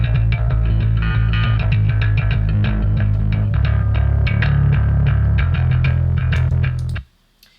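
Gritty electric bass riff with a thick low end and a buzzing distorted edge, a distorted signal blended with a cleaner SansAmp carrying the highs, playing steadily for several seconds before cutting off abruptly.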